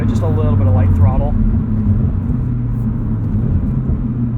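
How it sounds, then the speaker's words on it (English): Low steady highway cruising drone from a 2023 Toyota GR86 manual with GR Performance Exhaust, heard from inside the cabin as a continuous rumble with road noise, a voice talking briefly over the start. "You can hear on the highway, no drone from the exhaust."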